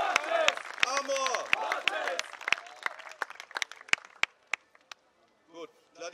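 Audience clapping for gladiators at a Roman-themed show in the amphitheatre at Augusta Raurica, loud dense applause at first that thins into scattered claps, then a brief burst of voices near the end.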